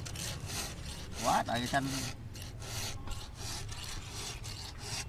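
A fallen tree trunk lying close to the ground is sawn by hand, giving a steady rasping rhythm of repeated strokes under ongoing rural conversation nearby.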